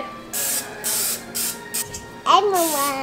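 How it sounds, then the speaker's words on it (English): Cooking spray sprayed onto cake pans in a home kitchen, several short hissing bursts in an uneven rhythm, close by, followed by a person talking. "We gotta spray the pans."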